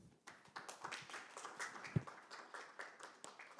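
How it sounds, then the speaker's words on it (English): Scattered applause from a forum audience welcoming a speaker, a thin, fairly quiet patter of individual claps with no talk over it. "Please welcome the Director Son with a round of applause"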